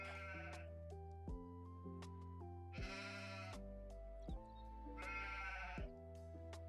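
Sheep bleat repeatedly in the farming video game Farming Simulator 25, several loud, drawn-out calls overlapping one another with no talk over them.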